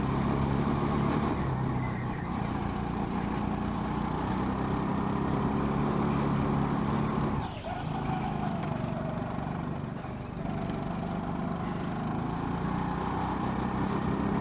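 Go-kart engines drone steadily on a grippy indoor karting track, a continuous loud motor buzz with slight dips and surges as karts pass, no talking.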